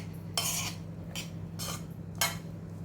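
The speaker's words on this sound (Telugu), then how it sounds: "కొద్దిగా నిమ్మరసం వేసుకొని ఒకసారి కలిపేసుకుందామండి" A spoon scrapes and stirs lemon juice into broken rice pulihora in a metal pot, four short scraping strokes close up over a faint steady hum.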